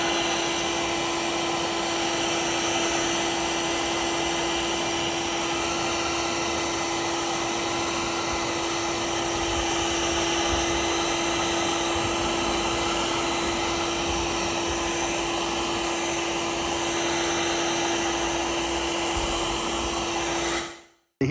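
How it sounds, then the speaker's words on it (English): A vacuum cleaner cleaning the interior of a BMW E46 320d runs continuously with a steady, loud whining drone for about twenty seconds, then cuts off abruptly. "Quick vacuum, quick scrub"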